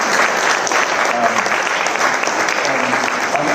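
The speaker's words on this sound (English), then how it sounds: "A big round of applause for Dr." At a Mahavir Jayanti celebration, an audience gives Dr. Jain a loud, dense round of applause that holds steady throughout, with faint voices mixed in.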